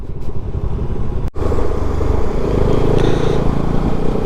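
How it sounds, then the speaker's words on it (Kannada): A car passes on a winding mountain road near Munnar, its engine a loud, steady roar that stays close for the whole stretch, with no talk over it. "ಹಾಂ, ಕಾರು ಬಂತು."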